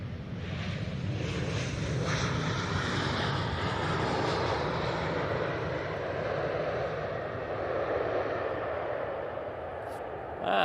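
A jet airliner landing at Manchester Airport rumbles heavily and steadily at a distance, with a broad roar and wind-like hiss that fade slightly toward the end.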